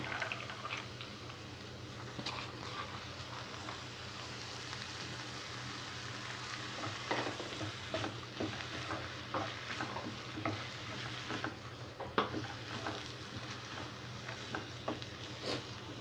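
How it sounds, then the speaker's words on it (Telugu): Ivy gourd (tindora) pieces and soaked chana dal frying in a pan: a soft, continuous sizzle with scattered light clicks and scrapes from stirring, faint and close. "శనగపప్పు వేసిన తర్వాత 5 to 10 minutes మూత పెట్టుకొని బాగా ఫ్రై చేసుకోవాలి."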